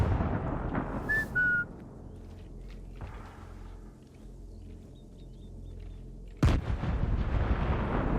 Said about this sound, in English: That sounds like a big gun.